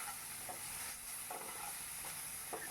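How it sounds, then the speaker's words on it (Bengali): Potatoes frying in a pan for a jute-leaf curry, a steady soft sizzle running throughout with a few faint stirring scrapes, no voices. "আলুগুলোকে ভালো করে ভেজে নেব, একটু লাল লাল করেই ভাজবো।"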